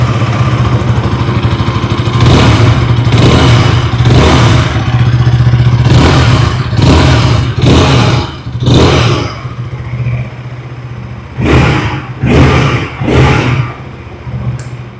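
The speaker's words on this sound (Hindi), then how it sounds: "आइए अब सुन लेते हैं इस बाइक की एग्जॉस्ट नोट।" A 2026 KTM RC 160 motorcycle idles with a steady low thump from its exhaust, punctuated by repeated sharp throttle blips that rev up and drop back, close and loud with no talking.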